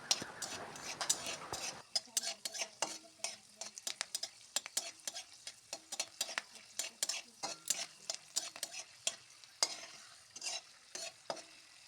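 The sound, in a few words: frying peanuts in hot oil in a wok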